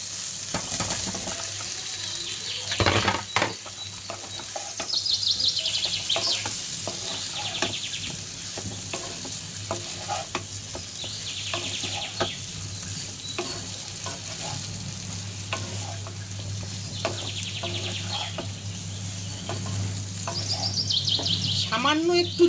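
Potatoes for Kolkata street-style dum aloo frying in a spice masala, a continuous close sizzle with repeated scraping and clattering stirs and a low steady hum beneath, faint chirps in the background.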